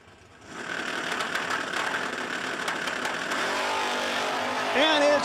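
Drag race cars run at the Bernie Mann Memorial No Delay Nationals. A loud, sustained engine roar builds and holds, then a high, rising whine comes near the end. An announcer talks in the background.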